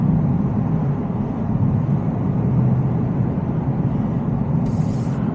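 Steady, loud cabin drone of a 785 HP Shelby Super Snake truck engine on a drive through traffic in Mexico, a continuous low rumble with no talking.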